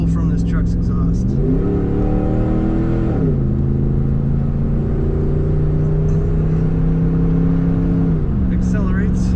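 A 2006 Dodge Ram 1500 SLT 4x4 pickup with an automatic transmission revs up hard from close by, its engine pitch climbing, dropping back and then rising again, with a steady rumble throughout and a voice speaking over it.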